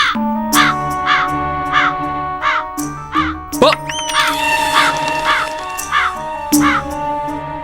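Harsh crow caws repeat in a steady series, loud and close, with a few sharper squawks midway over a faint background hum.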